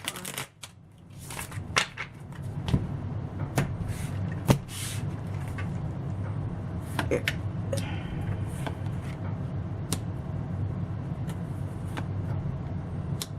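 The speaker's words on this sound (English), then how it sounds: "I'm here to shuffle one more time." Tarot cards being shuffled by hand, with repeated crisp riffles and flicks at an irregular rhythm over a low, steady background rumble.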